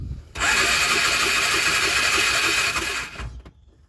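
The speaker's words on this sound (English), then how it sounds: "So now, when you reach over, turn the key," A Polaris Ranger side-by-side engine cranks for about three seconds after the key is turned, a loud rapid churning that stops abruptly, with no voices.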